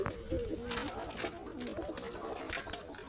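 Pigeons coo steadily in a loft during the winter pairing season, several birds' soft, rolling calls overlapping close by with no talk.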